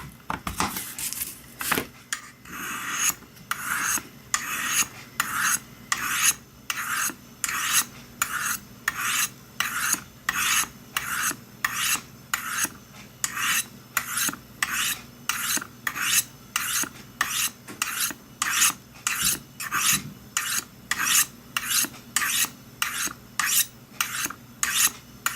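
Repeated rasping strokes of a knife blade drawn across Spyderco Sharpmaker ceramic stones, a steady rhythmic series of close, scraping passes with no talk.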